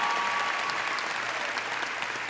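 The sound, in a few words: graduation audience applause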